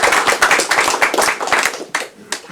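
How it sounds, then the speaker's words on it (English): A crowd applauds at a memorial tribute with steady, close clapping that thins out toward the end, a few isolated claps trailing off. "Please, a round of applause."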